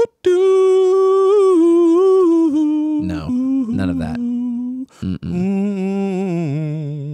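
A phone alarm plays a flute-like melody over a humming tone, ringing continuously and fairly loud, with a brief spoken remark partway through.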